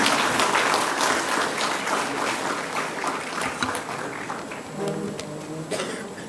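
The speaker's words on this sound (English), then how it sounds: "I request all of you to give a big applause for his achievements" An audience at an inauguration ceremony applauds for a steady stretch, the clapping gradually thinning toward the end, with a few coughs and stray noises mixed in.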